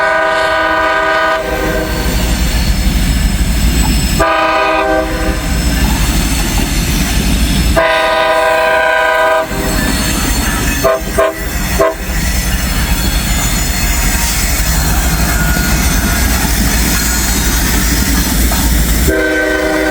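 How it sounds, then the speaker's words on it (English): Locomotives rolling past on an old B&O and Pennsylvania railroad line: a loud, steady rumble with blasts of the train horn repeating several times throughout, close and continuous, with no talking. "Yep, just locomotives, but no worries,"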